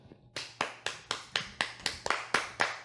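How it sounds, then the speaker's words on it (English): A small group claps in a slow, even rhythm in the background, about ten distinct sharp claps spaced roughly a quarter second apart, fairly faint and distant in a quiet room. "There's also a round of applause in the background too"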